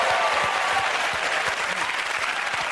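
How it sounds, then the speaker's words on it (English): A quiz show audience breaks into sustained applause for a contestant, a thick, even clapping that stays steady throughout with no speech over it. "Let us applaud him."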